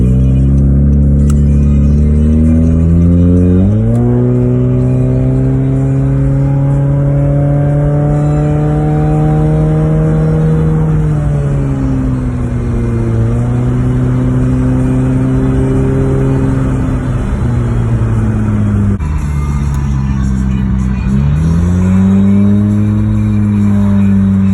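Honda CR-Z engine droning steadily from inside the car on a cruise, rising in pitch through several gear changes with drops between shifts, loud and continuous with no talk.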